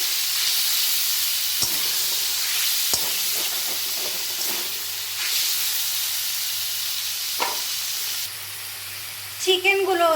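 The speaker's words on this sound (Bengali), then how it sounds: "এখন আমি এই তেলের মধ্যে দিয়ে দিচ্ছি ম্যারিনেট করে রাখা চিকেনের টুকরোগুলো।" Marinated chicken pieces drop into hot oil and fry with a steady bright hiss and sizzle, broken by a few sharp crackles and spits, with a voice talking over the frying.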